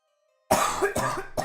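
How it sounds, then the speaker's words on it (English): Silence, then a sudden burst of rough, close coughing, three or so hacking coughs in quick succession with no speech. "You might hear a little bit of a cough every now and then."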